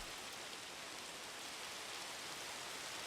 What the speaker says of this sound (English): Let's quick turn off the rain. Nobody likes rain.